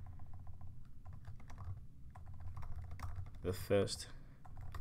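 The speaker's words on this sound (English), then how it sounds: "Oops, my typing got caught." Typing on a computer keyboard while writing Java code, a steady run of quick clicking keystrokes heard close up, with someone speaking briefly partway through.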